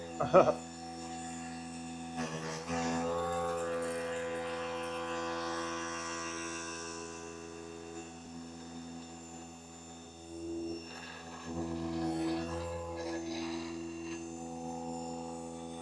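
A milling machine's motor drones with a steady harmonic whine as it is hand-jogged through a roughly quarter-inch-deep cut, its pitch sagging as it bogs down under load, then recovering, with a brief knock at the start.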